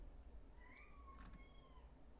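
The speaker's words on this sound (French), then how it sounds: "Je sais pas si vous entendez mon chat miauler." A pet cat meows, one drawn-out rising and falling call, faint against quiet room background with no talking.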